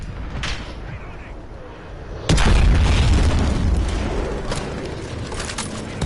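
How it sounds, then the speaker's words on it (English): A single loud, deep explosion from a claymore mine in Call of Duty: Modern Warfare Ground War bursts in mid-clip over steady battle ambience, then its rumble slowly fades. "That's a friendly claymore."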